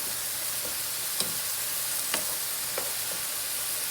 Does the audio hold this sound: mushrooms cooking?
yes